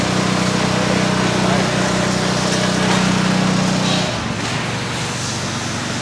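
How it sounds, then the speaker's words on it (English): Laser cutter running in a metal fabrication workshop, a loud steady machine hum with a low drone that drops off sharply near the end, leaving quieter background noise. "this machine here, this laser cutter, handles most of the stuff that comes in the building is cut in here"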